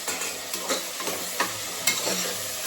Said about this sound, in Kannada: ತರಕಾರಿ ಹಾಕ್ಕೊಂಡು ಒಂದು ಸಲ ಫ್ರೈ ಮಾಡಬೇಕು